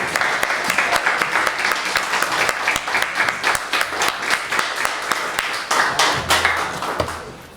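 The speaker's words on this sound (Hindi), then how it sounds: "इनके लिए तो खड़े होकर ताली बनती है।" An audience rises to its feet in loud, sustained applause for a Padma Shri 2022 honouree at a formal ceremony, dense clapping with sharp individual claps for about seven seconds before it thins out at the end.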